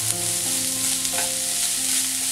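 Chopped onions sauté with salt in a pan with a continuous close sizzle. Stirring adds occasional scrapes, and a faint tonal hum runs underneath. No voices are heard.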